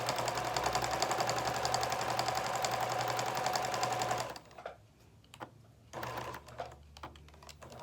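A sewing machine stitches the self binding on a baby blanket, running steadily and close for about four seconds, then stopping to a few short bursts and handling noises.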